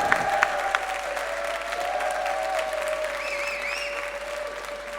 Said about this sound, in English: Just raise your hands and clap them high.